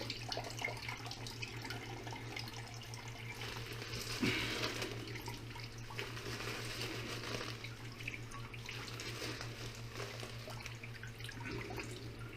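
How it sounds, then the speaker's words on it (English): Faint trickling and dripping water as wet filter bags used for making bubble hash are wrung out, over a steady low electrical hum and light handling noises. "We'll just squeeze this out real good, get as much water out as we can"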